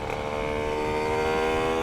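A Honda RS125 NF4 motorcycle engine idles during warm-up, running with a steady, loud two-stroke drone that holds nearly constant through the clip without revving.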